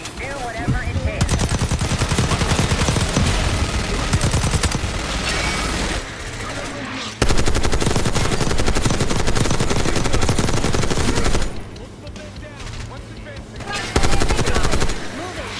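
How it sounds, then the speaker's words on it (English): A minigun fires in Call of Duty: Black Ops 6, a sustained dense roar of rapid shots in long continuous bursts with brief pauses, loud and close, with a helicopter-like rumble and occasional voices underneath. "Watch the minigun."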